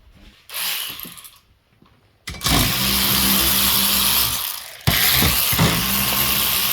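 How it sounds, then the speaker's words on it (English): Ratcheting wrench clicks and metallic mechanism sounds while bolts come out of a Toyota Prius Gen 3 engine, loud and close, in two long bursts after a brief quieter stretch. "We're going to get all these bolts out here."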